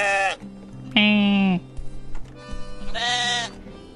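Sheep in the video game Moirai let out three loud, nasal bleats, close and distinct, separated by brief quiet stretches with faint background game sounds.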